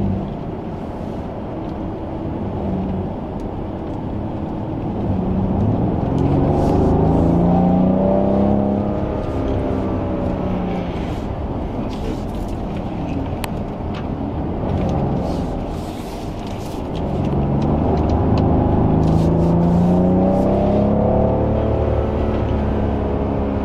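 A Rolls Royce driven hard on a racetrack, its engine droning steadily and rising in pitch through two long accelerating sweeps, heard from inside the cabin with constant road and wind rumble.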